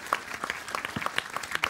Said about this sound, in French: Vous pouvez applaudir Pierre, là.